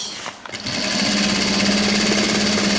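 A sewing machine runs at a steady pace as it sews bias binding onto both sides of umbrella fabric, its loud, close mechanical hum and rapid stitching drone starting after a short pause and continuing without voices.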